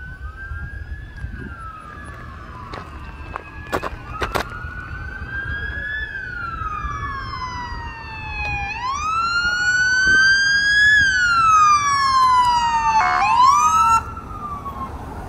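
Police siren from MNPD cars responding code 3 wails in rising and falling sweeps, growing steadily louder as the vehicles approach, then peaks and drops sharply near the end.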